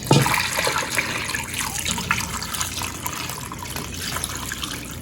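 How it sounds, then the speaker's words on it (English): Water is poured from a container into a pot of corned beef and cabbage stew, a steady splashing and gurgling pour that starts strongest and gradually softens. "I'm going to just pour the water in."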